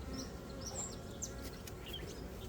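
Honey bees hum in a soft, steady drone around an open hive crowded with drone brood during a swarm-prevention split, faint and continuous, with occasional bird chirps in the distance.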